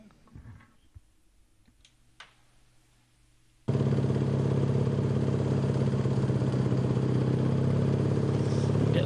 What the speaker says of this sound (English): You can see all the police motorbikes screaming past him